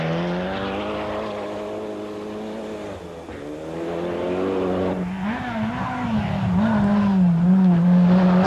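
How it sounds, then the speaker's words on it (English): A 350 horsepower Volvo Turbo rally car races along a forest stage at a 1985 winter rally, its engine note rising and falling through gear changes as it passes close and loud, building to a strong finish. "David Galanders from Aberdeen was in his first run in the 350 horsepower Volvo Turbo,"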